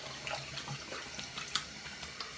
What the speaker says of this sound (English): Then, right away, switch over to cold water.